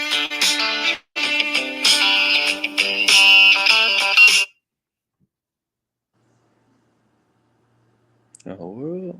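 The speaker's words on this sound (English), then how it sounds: "My phone has rung 5 fucking times." A phone ringtone plays in a repeating electronic pattern for several seconds, cuts off, then after a long silence a short warbling tone sounds again.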